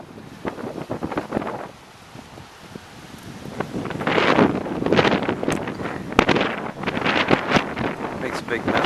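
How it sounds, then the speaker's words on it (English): Strong Santa Ana winds buffet the microphone outdoors, a loud continuous roar that swells and gusts, with scattered clattering and rustling throughout. "Wind is really whipping up."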